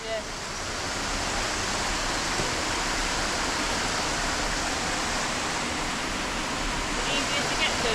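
A steady, broadband rush of a waterfall swollen by recent rain fills the scene without a break, heard at moderate distance and evenly loud throughout.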